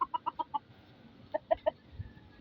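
A gamecock clucks nearby in two short rhythmic runs of clucks, separated by a brief pause, fairly quiet.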